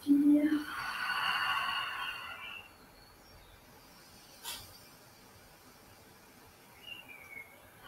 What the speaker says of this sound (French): on expire